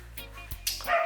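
A pet dog barks indoors at home, giving a quick run of short, sharp yips and barks that sound close and fairly loud within about a second.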